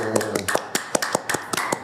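Hand claps break out at the start of a Korean live-streamed economic debate about the 2024 outlook: a quick, irregular string of sharp, close claps with a hum of room noise underneath.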